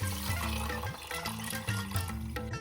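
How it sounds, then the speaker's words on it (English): Water pours steadily into a pot of rinsed channa (chickpeas), splashing and gurgling under light background music. "Pour it in, add water."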